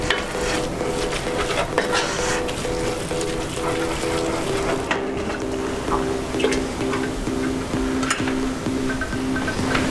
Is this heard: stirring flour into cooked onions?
yes